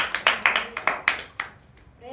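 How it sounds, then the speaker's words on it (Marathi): A small group claps for a woman in a Marathi church gathering, about a dozen sharp, uneven claps spread over two seconds, close and moderately loud, with faint talk underneath. "बघा, टाळी वाजत तिच्यासाठी"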